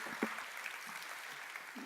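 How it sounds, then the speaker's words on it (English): Lecture audience applauding volunteers walking to the front, a faint, brief patter of scattered clapping in a large room, low and distant throughout. "give them a round of applause as they make their way to the front"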